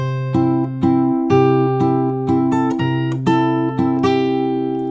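Fingerstyle guitar playing a theme from Up, a close, clear run of plucked bass notes and melody in a lilting waltz-like rhythm, steady and unaccompanied.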